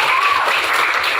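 Brief burst of steady applause from a group, loud and continuous throughout, with no talking over it.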